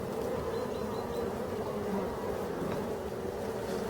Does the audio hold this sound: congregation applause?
no